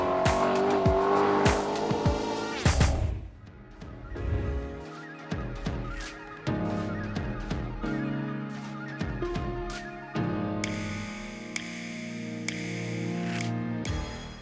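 A green 2020 Lexus LC500 Inspiration Series sports car drives past, its engine rising and falling in several passes with sharp revs and a hint of tire noise, moderately loud with no talking.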